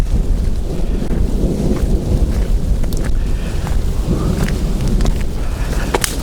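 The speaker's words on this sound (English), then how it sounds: "hear some thunder." Far-off thunder rumbles low beneath steady, heavy wind buffeting the microphone on an exposed hilltop near Knob Lick Tower, with a few faint clicks on top.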